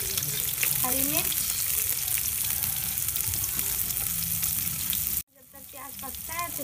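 Onion, garlic, ginger and green chili frying in a pan for pasta, a loud close sizzle throughout with stirring, a brief cut near the end, and the frying resuming afterward, with no talking.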